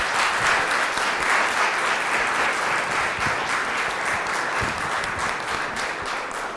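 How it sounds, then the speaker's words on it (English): Audience at a village council public meeting applauding steadily, a dense wash of many hands clapping that holds for several seconds and tapers slightly near the end, with no talk over it. "Let's give them a round of applause."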